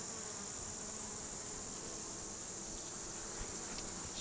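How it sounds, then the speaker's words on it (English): Honey bees hum in an open hive during a frame inspection, a steady, dense, fairly quiet buzz that continues throughout with no talk. "These bees are really gentle."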